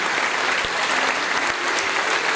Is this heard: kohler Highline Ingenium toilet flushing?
no